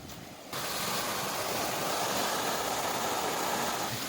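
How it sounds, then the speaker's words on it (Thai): Floodwater pours through a flooded garden in a steady, loud, broadband rush that begins abruptly after a brief quieter start and continues without voices. "ได้ยินเสียงน้ำไหม"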